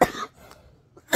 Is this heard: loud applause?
no